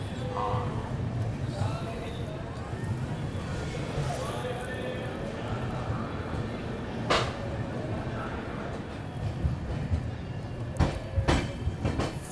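A Rajdhani Express runs along the rails with a steady low rumble and occasional rhythmic clacks, faint under people talking nearby, with a few sharp bursts near the end.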